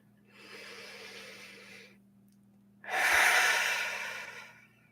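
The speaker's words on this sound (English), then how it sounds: "Taking a deep breath here." Two slow, deep breaths during a guided meditation, a long soft inhale followed by a louder, fuller exhale, close and calm with low hum beneath.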